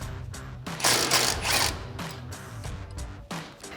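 A 10mm socket ratchet works a bolt loose on a 2016-2023 Toyota Tacoma's suspension bracket, giving several bursts of close, rapid clicking and metallic scraping with short pauses between them.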